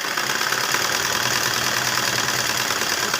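A sewing machine stitches a pant pocket onto the front panel with a continuous, even mechanical whir and rattle, steady and fairly loud at close range, with no voices.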